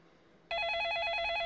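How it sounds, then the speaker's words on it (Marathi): A telephone bell starts ringing abruptly after a quiet moment in an indoor office scene and continues as a loud, steady, trilling ring. "फोन वाजतोय."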